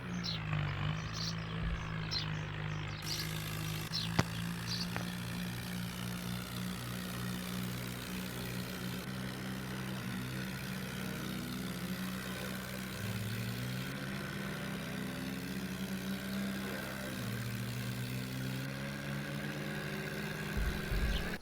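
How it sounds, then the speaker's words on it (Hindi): A tractor engine hauling sacks up a slope drones steadily and loud throughout, its low rumble shifting pitch as it labours uphill, with no voices over it. "गाइज देखो किस तरह से ऊपर आ रहा है ट्रैक्टर"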